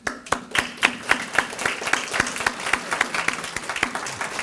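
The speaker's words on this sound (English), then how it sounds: "I will applaud them." Applause from the audience at a heritage area council awards ceremony, a steady run of sharp, fairly close hand claps with a distinct beat across the whole span, no voices over it.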